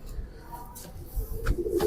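A white Jet champion pigeon coos softly with a few low, rounded calls, close by against faint background noise.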